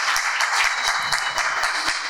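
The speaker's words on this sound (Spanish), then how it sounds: "Un aplauso para ellos, por favor." A studio audience at an inspirational talk event applauds steadily, with dense hand clapping filling the whole stretch at a fairly loud, even level and no voices.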